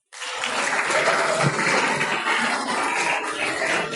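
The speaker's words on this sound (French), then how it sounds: "Je voudrais que nous applaudissions encore ma fille." A church congregation bursts into applause at a French-language service and keeps up a full, steady clapping that fills the room. No voices stand out above it.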